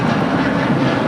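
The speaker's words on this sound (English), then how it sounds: "You have a United a Dreamliner now rolling." A United Boeing 787-9 Dreamliner bound for Washington Dulles takes off at LAX, heard as a brief, dense, continuous jet engine roar held at a steady level. There is no talk.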